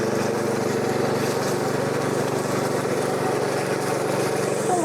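A small engine on a Korean-made power weeder runs at a steady, close idle, a continuous mid-pitched rumbling drone with a faint rising whine near the end.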